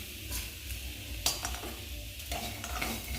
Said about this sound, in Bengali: এবারে এই তেলের মধ্যে বড়িটা ভেজে নিই।